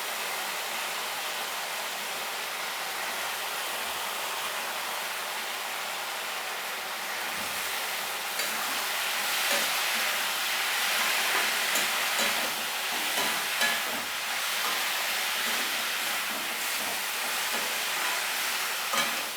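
Banana stem frying in a wok as water is sprinkled in, giving a steady, loud, broadband sizzle and hiss that swells partway through and carries on without a break, with no voices.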